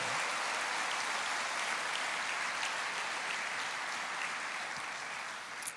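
A church congregation claps together in steady, dense applause that fills the space evenly from start to finish, with no speech over it.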